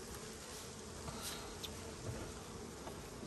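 Bees swarm around a busy beehive, a dense, continuous buzzing close by, with single insects zipping past now and then.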